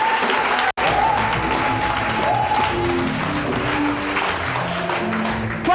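A church congregation applauding and cheering at a healing service, loud, sustained clapping from a large crowd that cuts out for an instant and then carries on, with faint voices mixed in.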